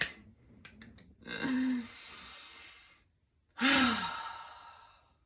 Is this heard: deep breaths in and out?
yes